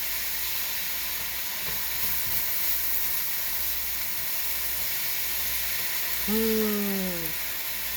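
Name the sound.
ragu meat sauce sizzling as it is stirred in the pan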